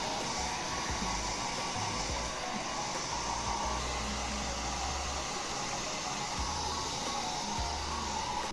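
A hair dryer blows steadily on half-dried hair, a continuous airy whoosh at moderate volume with small shifts in pitch as it moves, and no one talking.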